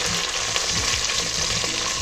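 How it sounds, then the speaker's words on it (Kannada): Two onions frying in a pan for mushroom biryani, a steady close sizzle with light crackling and occasional stirring scrapes throughout. "ಇವಾಗ 2 ಈರುಳ್ಳಿ ಹಾಕ್ಕೊತಾ ಇದ್ದೀನಿ. ಸೊ ಚೆನ್ನಾಗಿ ಫ್ರೈ ಮಾಡ್ಕೊಳ್ಳೋಣ."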